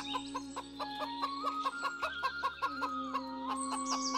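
A cartoon chicken clucks in a quick, even run of short bright clucks, fairly close and clear, with a low steady background tone and no speech.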